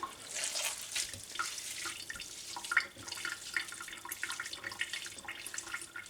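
Tap water runs and splashes over homemade cottage cheese curds being rinsed in a sink. The flow is steady, with small drips and splatters.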